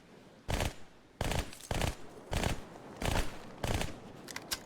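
Weapon fire in Halo, a series of about six evenly spaced, short, sharp bursts, each clear and fairly close, with a few lighter clicks at the end.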